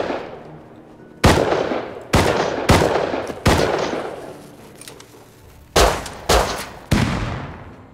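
Loud gunshots in the survival game Rust, sharp close blasts fired in irregular groups of single and paired shots, each decaying with a reverberant tail, no talk over them.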